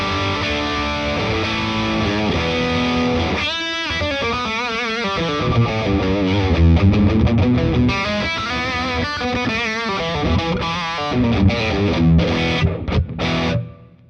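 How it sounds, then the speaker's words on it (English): Electric guitar played through an analog distortion pedal with a triple rectifier setting into a Deluxe Reverb amp, thick saturated chords and riffs ringing out continuously at a strong level, alone without talk. "So with the triple rec on, an analog distortion."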